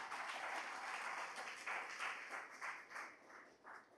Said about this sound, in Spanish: Vamos a poner palmas al Señor con todo el corazón.